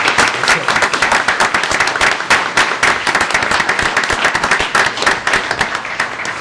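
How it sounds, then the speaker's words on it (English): Loud, close applause from the room at a city council meeting, many hands clapping continuously and evenly throughout without talk. "Let's give them a round of applause."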